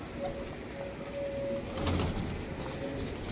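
Soft, low coos of pigeons kept as pets repeat in short phrases close by, with a faint rustle and shuffling around them; no one speaks.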